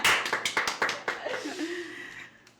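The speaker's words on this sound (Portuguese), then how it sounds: "Uma salva de palmas para ela." A small podcast audience briefly applauds a guest on a Portuguese-language franchise show, a short burst of close, scattered claps that trails off into soft chuckling and breath.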